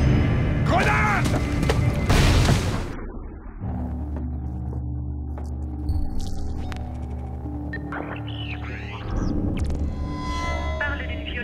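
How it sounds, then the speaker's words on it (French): A grenade blasts in the Splinter Cell Blacklist video game with a loud, broadband burst that fades after a few seconds into low droning rumble, tones and mechanical hums, while voices speak around it. "Grenade!"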